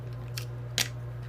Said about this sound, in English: grab a big sewing scissors, make the job a lot easier, and we're going to start trimming this.